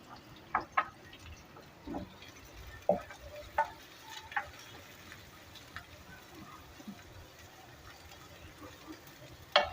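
Shredded cabbage tossed into a hot wok for restaurant-style chicken chowmein, a soft continuous sizzle with scattered scraping and clinking from stirring, quiet and close, no one speaking.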